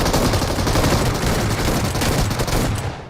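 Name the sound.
S12K shotgun gunfire in video game BGMI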